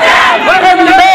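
An audience at an Independence Day gathering in Patparganj, Delhi, cheers and shouts together in a loud, sustained burst of many voices, with no single speaker standing out.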